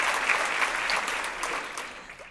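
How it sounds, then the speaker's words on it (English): Round of applause from an audience at a women and leadership event, steady dense clapping that gradually tapers off near the end. "So round of applause for Lesley for that."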